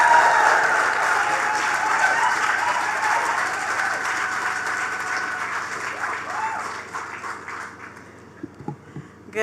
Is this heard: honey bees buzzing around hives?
no